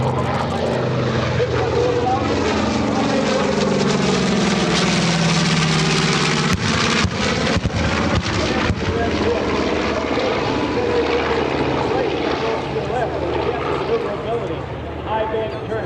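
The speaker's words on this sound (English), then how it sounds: "coming in tight turn, but under full controllability is the B-25 off to our left" A B-25 bomber banks through a tight turn at an EAA AirVenture 2024 warbird airshow, its piston engines and propellers making a loud, steady roar that swells and shifts as it passes, with voices mixed in.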